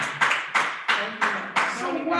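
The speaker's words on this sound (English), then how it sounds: "Clap your hands on that." A church congregation claps hands together in steady unison, about five sharp, evenly spaced claps, with voices faintly underneath.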